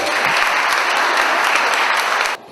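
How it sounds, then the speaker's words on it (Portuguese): A church-style crowd gives a loud, dense round of applause to Brazilian politician Eduardo Cunha, constant clapping that cuts off abruptly just before the end. "Uma salva de palmas para o servo de"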